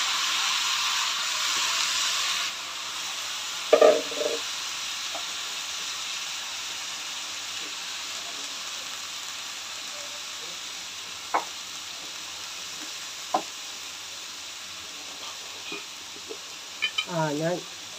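Chopped tomatoes sauté in a pan and are stirred now and then, giving a steady close sizzle that is loudest at first and then settles into a softer hiss, broken by scattered clinks and scrapes from the spoon.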